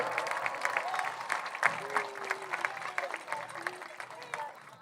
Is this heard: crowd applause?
yes